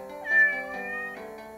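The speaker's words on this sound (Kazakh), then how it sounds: "мысық." A single short cat meow, clear and close, heard over a soft musical accompaniment.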